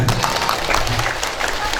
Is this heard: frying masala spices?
no